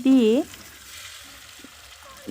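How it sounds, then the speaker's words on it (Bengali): Marinated chicken sizzles in hot oil in a kadai for a restaurant-style chicken kasa, a faint, even hiss that runs on after a short tonal, voice-like sound at the start. "এবারে ম্যারিনেট করা চিকেন কড়াইতে আস্তে আস্তে"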